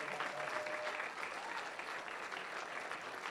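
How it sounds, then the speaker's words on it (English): Evening concert audience gives the Golden West College jazz band a sustained round of dense applause, an even wash of many hands clapping at a fairly distant, soft level. "Round of applause for the band this evening."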